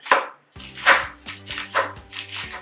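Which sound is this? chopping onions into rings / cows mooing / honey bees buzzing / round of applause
chopping onions into rings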